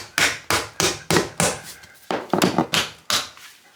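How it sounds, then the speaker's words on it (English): About eleven sharp hammer blows knock a part back onto an old 50-year-old heater. They fall in an uneven rhythm with short pauses, each strike crisp, close and ringing briefly. "just hammer that back on there"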